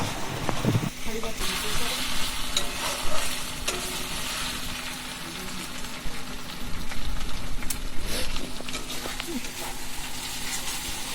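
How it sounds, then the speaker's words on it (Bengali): Meat and spices fry in a pot in a village home kitchen. A steady close sizzle runs throughout, broken by scraping, clattering stirring strokes, while a voice talks over the cooking at times. "মশলা কষা চলছে"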